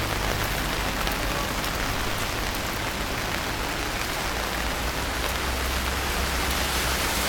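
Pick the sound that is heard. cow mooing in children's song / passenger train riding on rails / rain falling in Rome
rain falling in Rome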